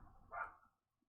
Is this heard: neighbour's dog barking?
yes